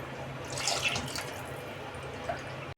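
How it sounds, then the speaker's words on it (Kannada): Water is poured into a pressure cooker pot of rice for mint rice, making a brief, quiet, steady splashing stream that stops abruptly. "ಈಗ ನೀರು ಹಾಕ್ಕೊಂಡಿದ್ದೀನಿ"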